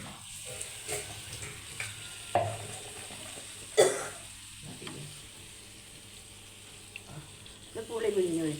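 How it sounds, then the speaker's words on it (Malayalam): Tamarind water poured into sizzling fish fry masala in a pan, giving a bubbling hiss with occasional spoon clinks and splashes and a louder burst of sizzle near the end. "ഇത് പുളി പിഴിഞ്ഞത് ഒഴിച്ചതാണ്"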